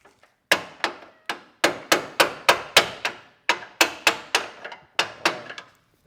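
Hammer driving a BMW E39 M5 front control arm onto its bolt while pushing the knuckle out: about sixteen sharp, close metallic blows in a steady rhythm, grouped in short runs with brief pauses.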